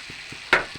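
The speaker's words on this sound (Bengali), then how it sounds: "একসাথে ভালোভাবে মিশিয়ে নিচ্ছি" A spoon stirs fried soybean chunks and potatoes into a curry in a pan, giving a single quick scrape over a faint, steady sizzle.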